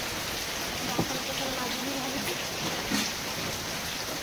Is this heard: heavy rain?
yes